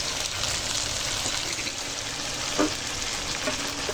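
Ginger garlic paste fries in a pan for chili chicken with a constant, close sizzle and the occasional scrape of stirring.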